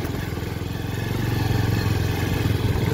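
A motorcycle rides along a rough, unfinished village road, its engine a steady, close, continuous throb with a fast, even pulse and no breaks or talk.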